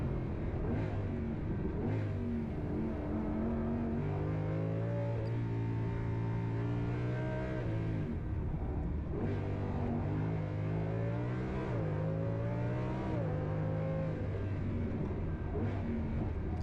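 A 1,230-horsepower Audi R8 laps the Nürburgring with lowered tire pressure. The engine note climbs and drops through repeated revs and shifts, a steady, slightly muffled drone with no talking.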